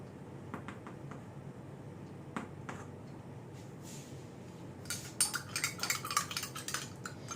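A spoon stirs sugar into a mixture, giving faint, scattered clinks and taps against the container, then a denser burst of rapid scraping and clattering near the end, all quiet and close.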